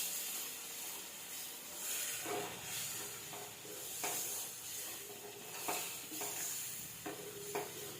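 Moong dal roasting in a pan for Thanjavur-style Ashoka halwa, with a steady soft sizzle and hiss broken by repeated scraping stirs at a moderate distance, no voices.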